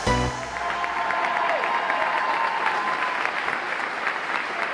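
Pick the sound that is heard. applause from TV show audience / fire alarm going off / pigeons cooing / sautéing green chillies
applause from TV show audience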